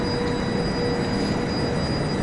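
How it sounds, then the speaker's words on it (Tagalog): A train arriving at a station in Europe, its wheels squealing in a thin steady whine over a low, continuous rumble of rolling cars, fairly close and unbroken. "Ito yung bagong dating na tren."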